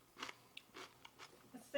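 Crisp crunching bites of sweet and spicy pickled watermelon rind, several separate close bites spaced through the moment, faint and without talk.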